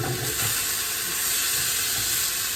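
Chicken sears in a hot pan with a loud, continuous hiss and sizzle, close and even, with faint low bubbling underneath and no talk.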